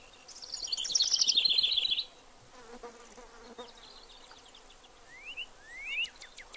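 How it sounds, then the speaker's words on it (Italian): In the Fishing Planet game's outdoor ambience, a fly buzzes close by for about a second, then quieter insect hum and a few thin, bright bird chirps follow over a soft background. "I rumori di sottofondo devo dire che sono spettacolari. L'uccellino, la mosca"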